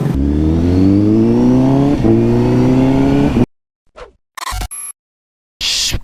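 A 1000cc motorcycle engine revs hard in rising sweeps for a few seconds, then cuts to silence broken by short bursts of noise.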